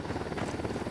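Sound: helicopter approaching in the video game Ghost Recon Wildlands

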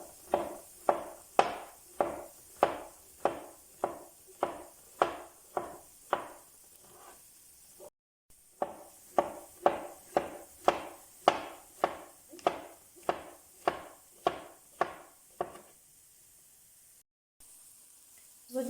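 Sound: knife slicing champignon mushrooms

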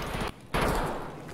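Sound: gunshots in a video game

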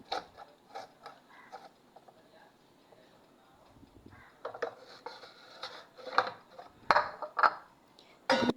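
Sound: knife cutting ridge gourd into small pieces

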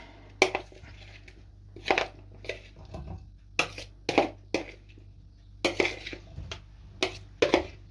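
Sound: salad moved onto a plate

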